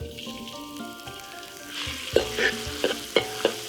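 Minced ginger, scallion and garlic sizzle in plenty of hot oil as the base for stir-fried shredded flatbread, a steady crackling hiss broken by several sharp spits and stirring clatters that grow louder toward the end.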